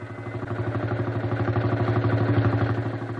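A farm tractor engine from the 1950s runs steadily up close, its rapid, even firing pulses producing a continuous mid-pitched chugging drone with no pauses.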